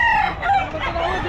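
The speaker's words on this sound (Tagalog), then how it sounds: "maraming manok mga kabosing" Chickens clucking close by at a pet market in Bocaue, with a rooster's crow rising through, a short busy burst of poultry noise.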